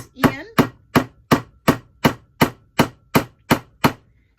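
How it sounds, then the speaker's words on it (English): A hammer drives a long nail into scrap wood with eleven sharp, evenly spaced strikes, loud and close, each ringing briefly before the next blow lands in a steady rhythm. "So just take your hammer,"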